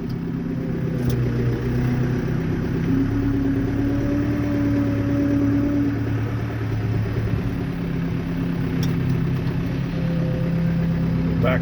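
A John Deere tractor engine runs steadily while scraping snow off a driveway, a close, continuous low drone with small shifts in pitch and no breaks.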